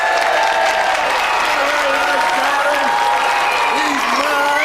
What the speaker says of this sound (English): Round of applause for our brave volunteer.